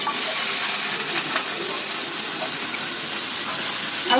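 Sliced onion sizzles in hot oil in a pan as a bottle gourd stir-fry is started, a steady close hiss throughout with no talking.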